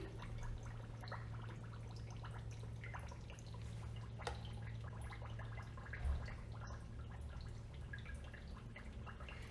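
Faint, steady fizzing and bubbling of dry ice in a drink, with scattered small pops and drips, a low hum underneath, no talking.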